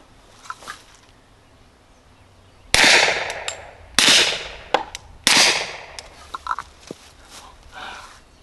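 Three sharp, loud gunshots from a Rock Island Armory TAC Ultra 2011 pistol in 10mm are fired outdoors into a dirt field about a second apart, each trailing off in a brief echo, with fainter clicks and rustles between them.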